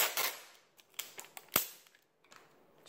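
Adhesive tape is ripped off a roll in several quick, harsh tearing bursts with short pauses between them, close and fairly loud, with no talking.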